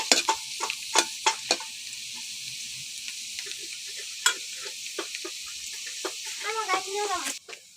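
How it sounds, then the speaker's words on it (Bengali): Potatoes fry on a stovetop over low heat, a soft sizzle under scattered stirring clicks and scrapes, with a voice chirping briefly near the end. "আমি চুলায় আলুগুলাকে সুন্দর করে ভেজে নিচ্ছি"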